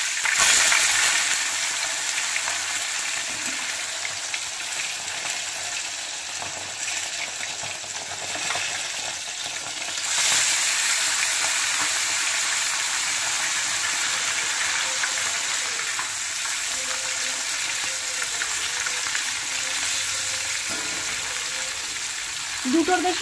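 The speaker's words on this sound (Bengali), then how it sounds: "তো চলো মাছগুলো এখানে ভাজা হতে থাক" Fish frying in hot mustard oil in a wok gives a steady, close sizzling hiss that carries on without a break throughout, swelling briefly partway through.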